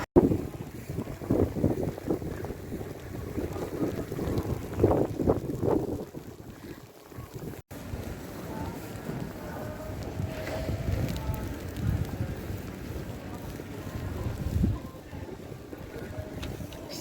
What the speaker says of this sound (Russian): Натуральная метель.